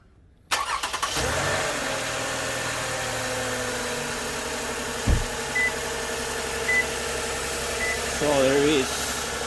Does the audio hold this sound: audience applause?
no